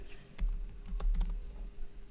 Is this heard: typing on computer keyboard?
yes